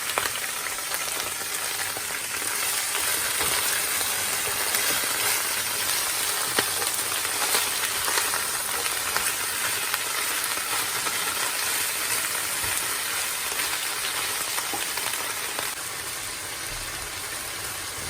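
Bok choy, large leaves halved and small ones whole, stirred and fried in a pan, giving a steady loud sizzle with scraping stir noises throughout and no talk.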